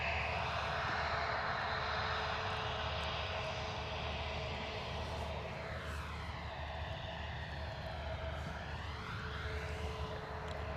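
An EasyJet Airbus A320neo moving at a misty London Luton Airport, its jet engines giving a steady broad roar at moderate distance, with a slowly shifting whine sweeping through the drone.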